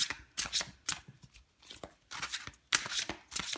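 Tarot cards are shuffled by hand close up in quick, crisp bursts of riffling and flicking, separated by short pauses, with no talking.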